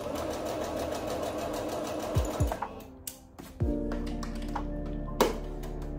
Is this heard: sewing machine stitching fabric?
yes